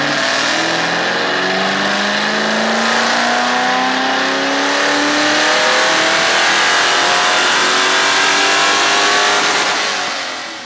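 A race car's engine revs hard on a dyno during tuning, a loud continuous roar with rising and falling pitch sweeps that swell toward the end, with no voices over it.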